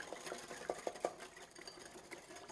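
A whisk clicks against a bowl while oil, oregano, salt and pepper are beaten into a seafood salad dressing, giving a handful of quick, close taps in a short run, then a softer background of faint clatter.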